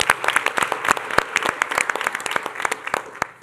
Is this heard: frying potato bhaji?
no